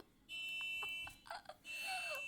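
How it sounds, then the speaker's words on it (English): A car alarm in the BeamNG.drive video game sounds a high-pitched electronic whoop that starts, breaks up briefly, then returns with a falling sweep. It is heard clearly and close up. "This is so realistic. It's high pitch and little. Let's stop this alarm."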